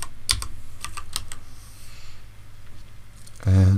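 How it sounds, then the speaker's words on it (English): Rapid clicks of typing on a computer keyboard, close and crisp at first, then sparser taps, ending with a louder thump. "So let's type grunge."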